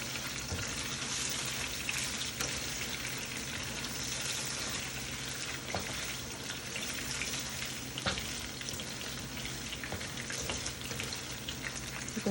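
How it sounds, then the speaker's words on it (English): Beef pieces frying in a pan while browning for a hearty stew, giving a steady, dense sizzle with occasional crackles and stirring, close and continuous without talk. "So keep frying it until it's brown."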